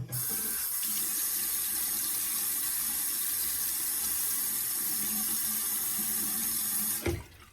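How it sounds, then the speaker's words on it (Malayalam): Tap water runs steadily while hands are washed with water and body wash at a sink, a constant close splashing rush that stops abruptly at the end. "നമുക്ക് കൈ ഒന്ന് വാഷ് ചെയ്തെടുക്കാം"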